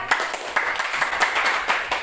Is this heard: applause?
yes